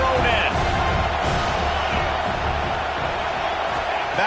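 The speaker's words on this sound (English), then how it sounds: "The roar of the crowd trying to fuel this defense" Football stadium crowd roaring to fuel the defense, a dense, steady wall of loud crowd noise with no pauses, an announcer's voice faintly over it.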